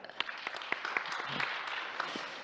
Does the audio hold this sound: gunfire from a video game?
no